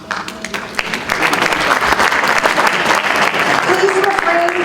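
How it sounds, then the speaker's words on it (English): A forum audience at a Wisconsin gubernatorial candidates event bursts into applause, loud and sustained crowd clapping that swells after a brief opening and continues steadily, with voices faintly mixed in. "Please refrain from applauding."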